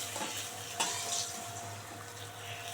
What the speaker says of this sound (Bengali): এই দুটো মাছ ভালো করে ভাজা হয়ে গেছে,